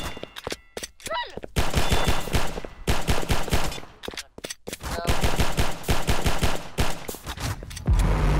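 Gunfire in a video game shooter: repeated rapid bursts of automatic shots in loud clusters separated by brief pauses, with some voice sounds in between.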